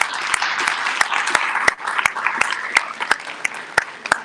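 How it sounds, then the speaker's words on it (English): An audience applauds at the close of a town hall debate at Illinois State University, a full, sustained round of clapping with a few sharp, louder claps standing out near the microphone. "Let's give one more round of applause for our great debate."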